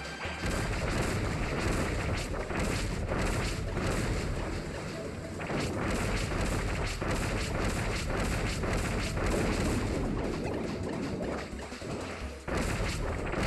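Bomb blasts in Kirby Triple Deluxe, heard as a dense, continuous barrage of booming, crashing bursts that keeps going with little pause throughout.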